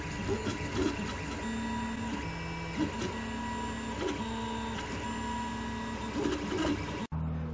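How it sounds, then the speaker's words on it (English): A newly acquired home 3D printer runs steadily with whirring stepper-motor tones that shift pitch as the head moves, a constant mechanical drone that cuts off abruptly near the end. "I've gone and taken the plunge, so to speak, and got myself a 3D printer."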